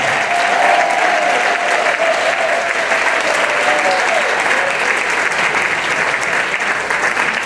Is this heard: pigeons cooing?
no